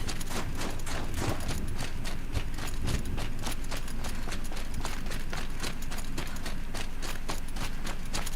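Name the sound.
horse hooves in the video game Horizon Zero Dawn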